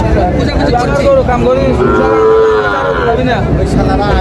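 Cattle at a busy village cattle market in Naogaon, Bangladesh, with a long close moo rising over a loud, steady hubbub of crowd noise and voices.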